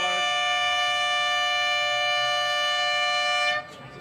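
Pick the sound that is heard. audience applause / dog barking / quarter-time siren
quarter-time siren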